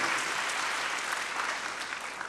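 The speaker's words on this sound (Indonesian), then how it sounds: "Ayo kita tepuk tangan terlebih dahulu bagi Kristus Yesus Tuhan kita" Steady applause from a church congregation at a sermon, dense continuous clapping filling the space with no speech over it.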